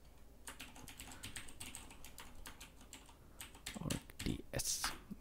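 Fingers type on a computer keyboard while entering a server path in a command-line tool, a quick irregular patter of close key clicks with a few louder strokes near the end.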